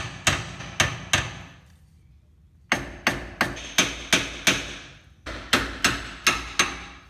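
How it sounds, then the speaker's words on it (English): A hammer strikes a Toyota 4x4 solid front axle knuckle arm in three sharp metallic bursts: two blows, a pause, then rapid runs of six and five loud, close ringing hits. "Should have just started by hitting the knuckle arm."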